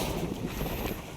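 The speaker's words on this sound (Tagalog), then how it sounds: "lakas ang hangin." Strong wind roars steadily around a house under construction with a newly built roof, a dense, continuous rush buffeting the microphone for the whole moment, with no voices.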